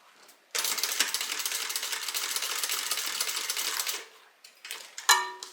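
A sewing machine stitching across the edge of a Brahmin-inspired handbag, a rapid mechanical whirring burst lasting several seconds before stopping, followed by a few clicks and a short metallic clack; close and loud, with no talking.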